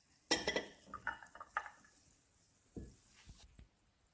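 A spoon stirs vodka punch mixed with 7-Up, giving a quick run of clinks and clatters against the container, then a few softer taps after a pause, close and clear with no talking.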